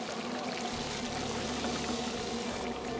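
Fragile crappie fillets fry in oil heated to 350 degrees, giving a dense, even sizzle that stays steady and moderately quiet throughout, with no talking.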